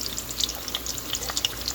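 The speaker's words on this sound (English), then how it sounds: "So you flip them over and give the other side a chance to fry." Jamaican saltfish fritters frying in a pan of hot oil, a close, continuous crackling sizzle with dense small pops and no voices.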